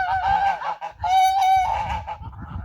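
Domestic geese and ducks shut inside a netted enclosure on a rainy farmyard honk loudly in repeated nasal bursts, several calls overlapping close by with a short pause midway.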